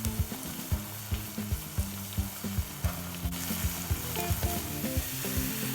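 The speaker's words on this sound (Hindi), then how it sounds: "घी में प्याज, इलायची, लौंग वगैरह को फ्राई करके इसका पेस्ट बनाना" Onions, cardamom and cloves fry in ghee for a chicken masala spice paste: a steady, close sizzle runs throughout, punctuated by regular knocks and scrapes of stirring, with no voices.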